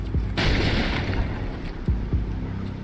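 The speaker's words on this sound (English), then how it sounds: "A grenade launcher for Max Payne." A grenade launcher round explodes in the Max Payne 3 video game, a loud close boom with a rumbling tail, followed by two smaller thuds.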